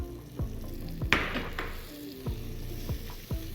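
Curry paste stirred into onions sizzles in a pot for a coconut curry ramen soup, a quick burst of frying with a few clinks and knocks of a utensil against the pot, steady and close.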